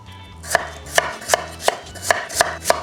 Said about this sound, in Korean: 감자는 깍둑 썰어서 물에 10분 정도 담궈 주세요